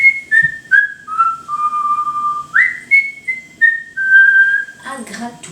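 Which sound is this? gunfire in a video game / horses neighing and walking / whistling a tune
whistling a tune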